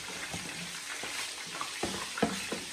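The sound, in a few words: turkey browning and frying in a pan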